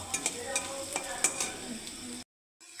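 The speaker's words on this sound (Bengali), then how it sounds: "আলুটাকে আমি একটু লাল লাল করে একটু ভেজে নেব" Potatoes fry in white oil with cumin and ginger paste, a steady sizzle broken by several sharp spatula scrapes and clinks against the pan before the sound cuts off abruptly near the end.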